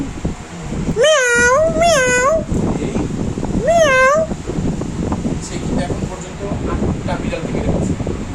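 Several loud, drawn-out cat meows at a veterinary clinic in Dhaka, three distinct cries in the first half, heard over a steady fan hum and people talking nearby.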